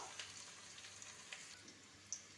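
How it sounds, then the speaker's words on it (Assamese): Soft, steady sizzling of onions frying in a pan until lightly browned for goat meat curry, faint and continuous, with a few small pops and crackles scattered throughout. "অলপ ৰঙচুৱা হোৱালৈকে ভাজি থাকিব"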